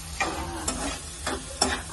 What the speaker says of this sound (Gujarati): અહીંયા છે ને ટમેટા ડુંગળીનો વઘાર કરી નાખ્યો છે